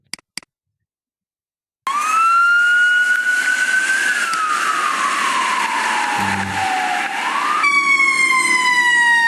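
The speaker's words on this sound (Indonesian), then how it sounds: "ini ada contohnya adalah pemadam kebakaran ketika sedang mendekat dan ketika sedang menjauh" A couple of brief clicks, then a loud fire truck siren wails continuously, its pitch sliding down as it passes and the tone shifting as it moves away.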